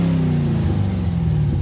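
Chevrolet Camaro V8 with a K&N intake and open exhaust valves accelerating, a loud, steady deep engine roar with rising harmonics sustained through the short burst.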